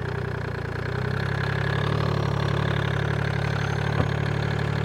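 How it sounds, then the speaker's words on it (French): A Track T 800CDI turbo diesel motorcycle engine runs close and steady, a throbbing mechanical drone with a slight rise as throttle is added and one faint click near the end, no talk. "On va voir comment ça démarre. Attention les amis, si tout le monde est derrière, on met un petit peu de gaz."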